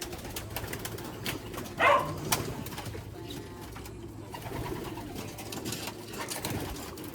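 Racing pigeons coo and call near a loft, with one louder burst standing out partway through against steady background noise.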